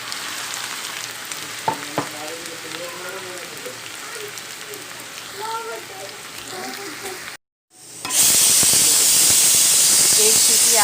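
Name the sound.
pressure cooker whistle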